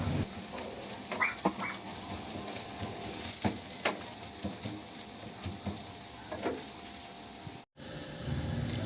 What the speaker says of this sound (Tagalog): Ibuhos ko na lang din yan sa kawali at lutuin natin ng scrambled egg.